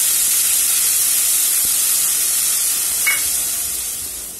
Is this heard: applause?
no